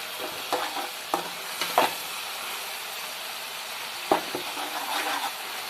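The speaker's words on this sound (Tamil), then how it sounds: "தக்காளி நல்லா வதங்கிடுச்சு. இன்னும் கொஞ்சம் நேரம் வதங்கட்டும்." Tomatoes sautéing with salt in a pan for fish curry, a constant hissing sizzle broken by several scraping stirs of a utensil, close and fairly loud with no talking.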